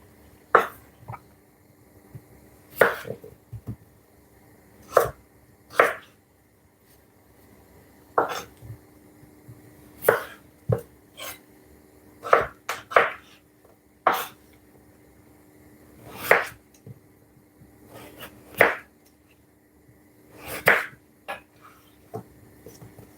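A knife chops potatoes for chips on a board, sharp isolated cuts spaced a few seconds apart with quiet gaps between, close and crisp, some strikes coming in quick doubles.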